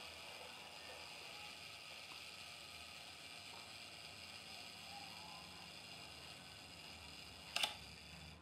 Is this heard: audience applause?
no